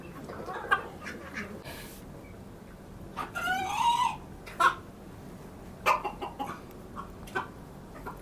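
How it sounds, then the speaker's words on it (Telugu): Chickens cluck in short bursts while a rooster crows once, mid-length and fairly close, with more scattered clucking after it. "మీ కోళ్ళు బాతులు అన్నీ ఇక్కడ ఉన్నాయి"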